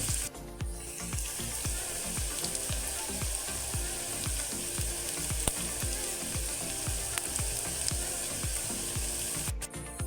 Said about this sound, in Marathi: तर आता कांदा आहे ना आपला व्यवस्थित फ्राय होतो तसंच परतून घेत राहायचा